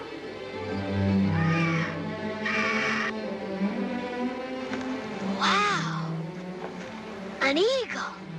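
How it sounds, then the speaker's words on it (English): Bald eagle calls in an outdoor scene, heard as several high, harsh rising-falling shrieks that stand out over background music, with a person speaking briefly. "It's a bald eagle."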